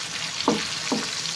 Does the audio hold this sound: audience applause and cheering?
no